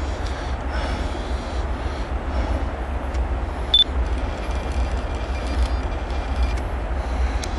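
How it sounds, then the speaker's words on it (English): Norfolk Southern geometry test train passing slowly on a Pan Am Railways line, a steady low rumble of rolling railcars with a brief high tone partway through. "They brought the NS Geo Test train out on this line all the way from Norfolk Southern Territory to Pan Am."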